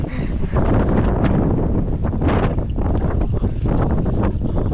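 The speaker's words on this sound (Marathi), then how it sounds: "भयंकर वारा सुटला एकदम जबरदस्त" Strong wind roars across a mountain summit, buffeting the microphone with loud, continuous gusts that swell and ease over several seconds, with no talk.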